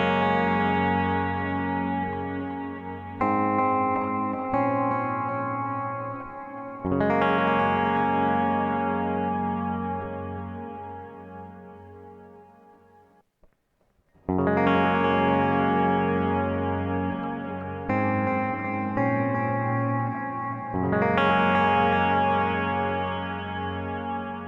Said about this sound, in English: the one with the reverb on its separate effect send or parallel bus